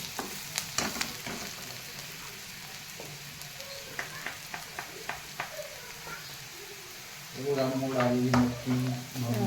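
Turmeric frying in hot oil with onion and chillies gives a steady sizzle that grows louder and denser toward the end, broken by a few sharp spoon taps and stirring scrapes in the pan.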